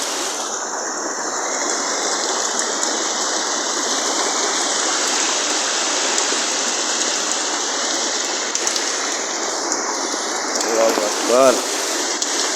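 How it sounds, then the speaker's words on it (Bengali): Heavy rain pours steadily with water running across a road, a dense, loud, unbroken hiss and wash of flowing water that stays constant throughout. "পরিমাণের বৃষ্টিটা হচ্ছে, পানি রাস্তায় কি পরিমাণের পানি।"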